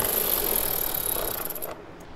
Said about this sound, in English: Both of those we'll remove with an 8mm head.